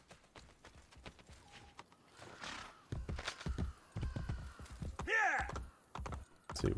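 Clip-clopping hooves and a horse whinny in the Assassin's Creed: Brotherhood video game, game sound effects with steady hoof steps and a neigh near the end, under intermittent talk.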